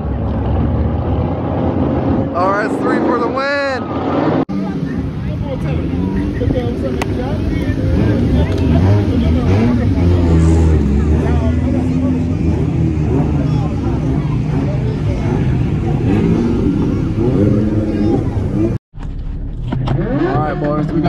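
Audi S3 8Y fitted with a TTE700 turbo roars hard and close at the drag strip, a sustained loud engine run with wind rush and a brief cutout near the end, voices talking over it at times.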